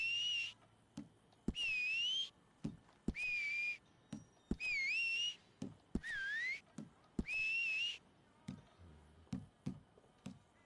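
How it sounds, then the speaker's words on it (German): Whistled notes repeat in short rising and falling phrases, each about a second long, alternating with soft ticking clicks between them, loud and close with no talking. "Pfeifen."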